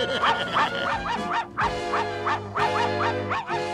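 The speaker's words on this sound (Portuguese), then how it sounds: "Tem um cachorro na floresta." A cartoon dog in a forest barks and yips in rapid bursts, close and loud, with a few pauses between clusters of barks.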